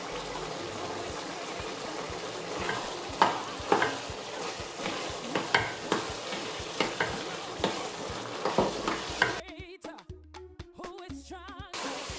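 A meat pie filling of mince, flour and water is stirred in a sizzling pan, giving repeated scraping and sloshing strokes over a constant frying hiss, close and clear.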